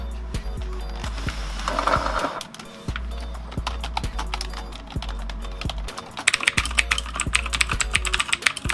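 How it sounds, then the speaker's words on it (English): Fast, crisp clicking of keys on an Aukey KM-G6 mechanical keyboard with Outemu switches, steady and close, with a quicker flurry of clacks near the end. "typing on this keyboard feels fantastic"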